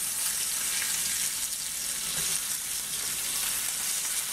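Steak searing in bacon fat in a cast iron skillet, a steady bright sizzle with faint crackle and spatter that holds level throughout, no voices.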